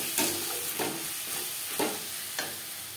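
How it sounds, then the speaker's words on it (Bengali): A spice masala with red chilli powder for pangas fish curry is stirred in a pan, with about four distinct scraping strokes over a soft, continuous frying hiss. "মশলা বেশ ভালো করে মিক্স করে দেবো।"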